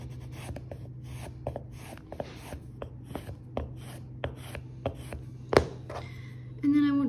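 A linocut carving tool drawn repeatedly across a leather slipstrop loaded with polishing compound, giving a series of short, quiet scraping strokes in an irregular rhythm over a low steady hum, with a brief louder knock near the end.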